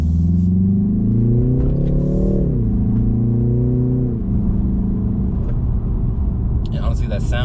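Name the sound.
BMW 330i car engine while driving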